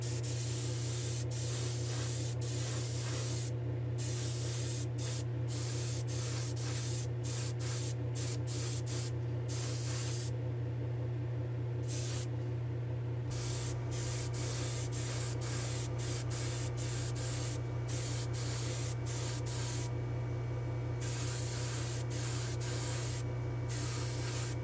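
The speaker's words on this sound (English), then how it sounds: "I'll meet you in the spray booth for a clear coat" Steady spray gun hiss applying clear coat to a diecast model car body in a spray booth, running continuously with short breaks between passes, a constant low compressor hum underneath.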